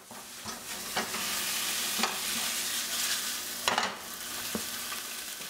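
Steady sizzling and crackling of sausages frying in a frying pan, with a few clinks as they are rolled around and turned.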